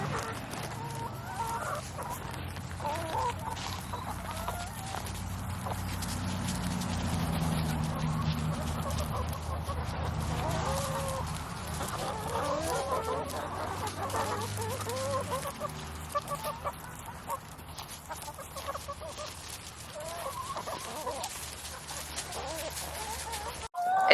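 Free-ranging backyard chickens in a neighborhood yard cluck and chatter steadily, several birds overlapping at close range with low, continuous murmuring throughout.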